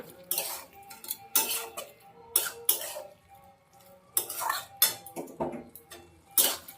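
A spoon stirring sugar into aubergine, potato and drumstick-flower chorchori in a cooking pan, with close, intermittent bursts of scraping and metallic clinks separated by short pauses.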